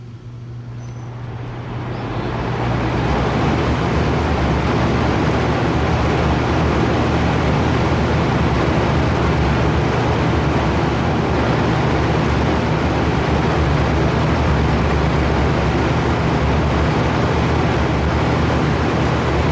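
A 1983 Lakewood C122X portable fan spins up and settles into a loud, steady whooshing hum on its high setting, running continuously and close by with no talk.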